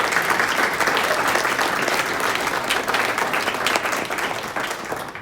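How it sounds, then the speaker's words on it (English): A crowd gives school staff a round of applause at a live-streamed gathering, with dense, steady clapping that holds throughout and eases off only slightly near the end. "I think we'd like to give our staff a big round of applause for the work that they've"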